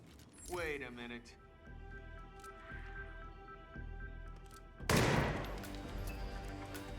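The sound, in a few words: gunshot in the video game Hitman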